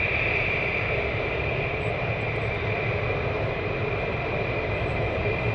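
Steady, loud jet roar from military aircraft at RAF Lakenheath during surge operations, including deployed Seymour Johnson jets, holding a constant broadband rumble and high whine throughout with no talking.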